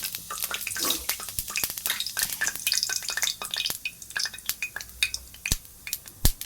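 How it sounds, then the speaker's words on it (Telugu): Cumin seeds fry in hot oil for a tomato curry, giving dense, irregular crackling pops and sizzle close by with no voices. "ఆయిల్ వేసిన, జీలకర్ర వేస్తున్నా."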